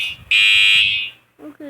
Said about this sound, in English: The fire alarm is going to end like in 5 seconds.